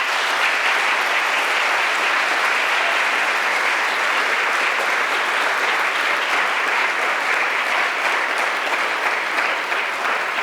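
A convocation audience gives a steady, even round of applause that holds at the same level for its whole length without breaks.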